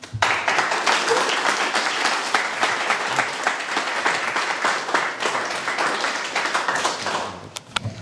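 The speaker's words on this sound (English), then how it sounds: "give them a massive round of applause" Sustained audience applause at a startup pitch competition's regional final in Manchester, welcoming the first pitcher of the night; dense, steady clapping fills nearly the whole stretch before tapering off at the end, with no talk over it.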